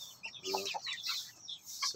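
A native chicken named Red clucks up close in quick, busy bursts, and a voice speaks briefly at the start.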